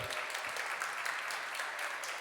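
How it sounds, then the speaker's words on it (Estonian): An audience at an integration awards ceremony gives steady applause, many hands clapping in an even, fairly distant wash without speech. "Suur aplaus Jelena Skulskajale."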